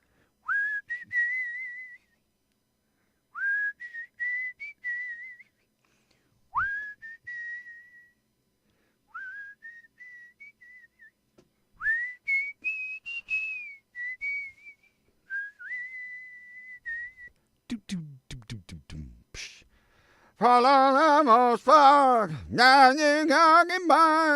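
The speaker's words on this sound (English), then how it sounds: "pulling out all the good rock and roll whistle songs" Someone whistles short melodic phrases with pauses between them, followed by a louder, fuller whistled tune at the end.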